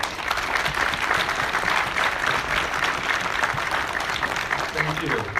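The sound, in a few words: audience applause for veterans' spouses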